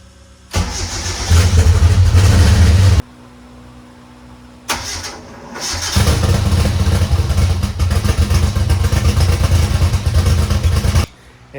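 A Mitsubishi engine fitted with a BorgWarner S400 turbo, part of a 1000 hp build, cranks and fires loudly, runs about two seconds and cuts out, then starts again and roars steadily and close for several seconds.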